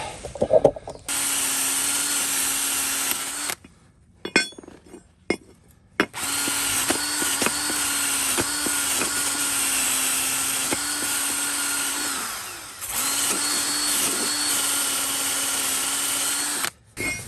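A power tool scrubbing rust off the rear brake caliper support of a 2017 Ford Kuga mk2, running in long steady whining bursts broken by short pauses and clatter between passes.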